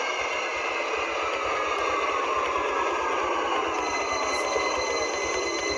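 A Victoria line train braking into Seven Sisters in the OpenBVE simulator hums and whines steadily, with a motor tone slowly falling in pitch over a constant rumble.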